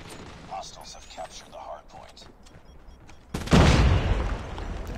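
Swordfish burst rifle firing in Call of Duty Mobile: a speaking voice over quiet game ambience, then a sudden loud burst of gunfire whose noisy roar carries on to the end.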